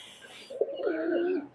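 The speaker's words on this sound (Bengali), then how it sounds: "এই যে ব্রিডার কবুতর এখানে আছে, 9 জোড়া কবুতর আছে ব্রিডার বর্তমানে" Pakistani highflyer breeder pigeons in a loft give a single close, throaty coo that swells and warbles for about a second, preceded by a faint hiss and a soft tap.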